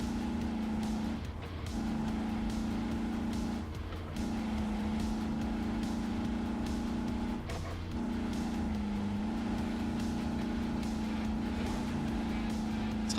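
A Hummer's engine from the RoadCraft video game drones at constantly high revs, a loud, steady buzzing tone with brief dips and shifts in pitch as the throttle changes, and no talk over it.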